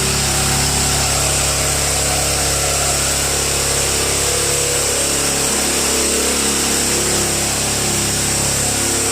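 A 4-inch highbanker combo dredge runs loud and continuous, its motor droning steadily with a dense, roaring wash of noise and no pauses.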